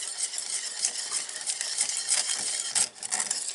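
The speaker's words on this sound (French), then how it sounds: "On remue sans cesse, parce que c'est du caramel" Homemade caramel for a chocolate spread is stirred constantly as it cooks, giving a continuous bright scraping and bubbling hiss with small clicks of the utensil against the pot.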